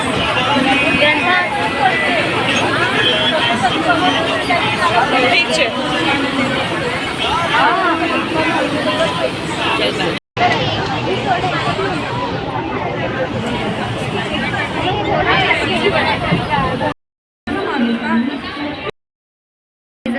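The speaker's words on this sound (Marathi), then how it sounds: "खूप जास्तच गर्दी" Loud, dense crowd chatter fills a packed Mumbai local train, many voices babbling at once over rumbling carriage noise, steady throughout with a few sudden cut-outs near the end.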